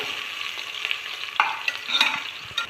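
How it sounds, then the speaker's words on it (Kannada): Onions frying in oil for egg biryani, a steady close sizzle with a few scraping stirs of a spoon in the pan, loud and continuous with no voices. "ಈಗ ನೋಡಿ ಇಲ್ಲಿ ಈರುಳ್ಳಿ ಎಣ್ಣೆಯಲ್ಲಿ ಚೆನ್ನಾಗಿ ಫ್ರೈ ಆಗ್ತಾ ಇದೆ."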